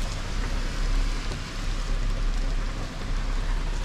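Steady wind-driven rain pours outside a parked Kombi van, a dense continuous hiss with low rumble from gusts, heard from inside and close, with no talking.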